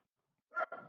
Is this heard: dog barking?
yes